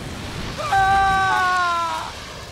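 A character in Star Wars: The Old Republic screams under torture, a single drawn-out, wavering cry that rises and fades over about a second against a low background hum.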